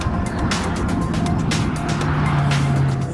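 A 1980s Lotus sports car with a top speed of 240 km/h drives on a track, its engine holding a loud, steady drone close by with faint tire noise underneath and no talk.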